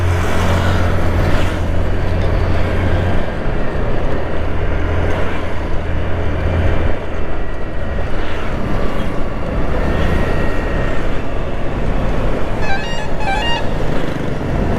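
Motorbikes roaring past on a road while riders pull wheelies, loud continuous engine noise and traffic rumble throughout, with a brief horn toot near the end.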